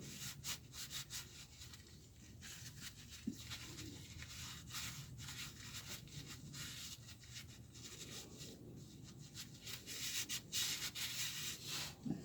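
A rag rubs and scrubs in repeated strokes over the greasy differential filler cap area of a 2004 Nissan Armada, a soft, close, continuous swishing with uneven rhythm and no voices.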